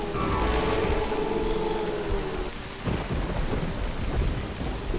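Stormy night ambience in the HeXen video game, with steady heavy rain hissing throughout and a rolling thunder rumble building partway through, loud and close with no voices.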